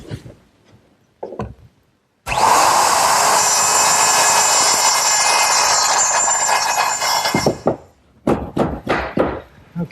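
A router cuts a wooden tenon against a clamped template, with a loud, steady, close high whine lasting about five seconds, then a few sharp knocks as the work is handled.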